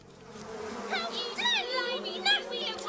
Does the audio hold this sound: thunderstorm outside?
no